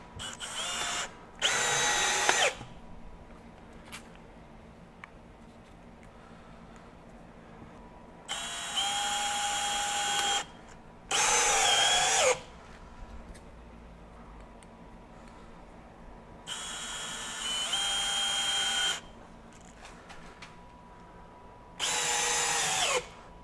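A Milwaukee M12 FUEL Gen 3 hammer drill driver, out of hammer mode at speed 2 with a Torx bit, drives 3.5-inch deck screws in six loud whirring bursts of one to two seconds, separated by quiet pauses.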